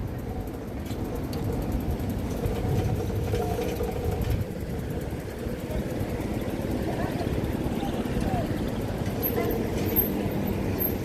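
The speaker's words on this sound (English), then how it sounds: "his engine's quite loud" A loud engine drones steadily on an Osaka street as a vehicle passes close by, a continuous low rumble filling the whole stretch with no clear break.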